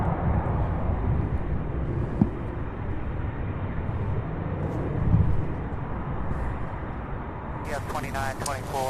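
At Louisville International Airport, a jet airliner rotates and climbs away in a loud, steady engine roar with wind buffeting the microphone, and a person talks briefly near the end.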